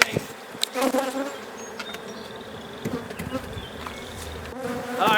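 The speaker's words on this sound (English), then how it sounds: "See how big this hive is? There's a lot of bees in here." A dense swarm of honeybees buzzing around a large, crowded beehive during an inspection, a steady close drone with individual bees flying past the listener and a few faint handling knocks.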